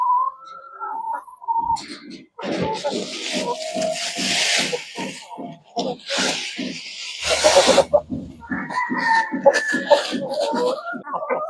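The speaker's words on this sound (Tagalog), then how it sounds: "Ito, walong hen mga kabokals, walong hen, isang rooster." Eight Dekalb Brown hens and one rooster in a fly pen give off a busy run of clucks, squawks and calls, some close and loud, others overlapping in a restless, irregular chatter.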